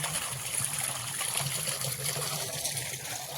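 Water trickles in a farm field, a continuous, soft, steady flow close by with no other sound over it.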